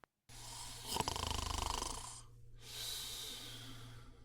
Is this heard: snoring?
yes